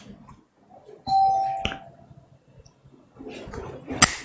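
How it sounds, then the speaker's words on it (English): An electronic doorbell rings with a sustained tone and a couple of chimes, fairly close, amid faint room noise and light clicks, with a voice heard faintly near the end. "Someone ringing the bell."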